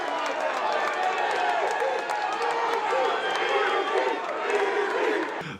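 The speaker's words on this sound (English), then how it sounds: "The whole crowd's going, Izzy, Izzy, Izzy." A large crowd chants a fighter's name, Izzy, in a loud rhythmic roar at the UFC 305 press conference, voices massed and continuous throughout.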